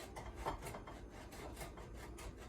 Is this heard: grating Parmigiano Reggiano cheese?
yes